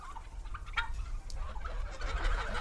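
Turkeys gobble on an organic farm, a few short bursts of throaty calls over low rumbling background noise, fairly faint and close by.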